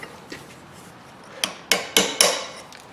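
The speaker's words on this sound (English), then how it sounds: "Chisel." A hammer strikes a chisel to knock out a clip on a Dodge Ram 2500/3500 front axle: a few faint taps, then four sharp metallic blows in quick succession, close and loud.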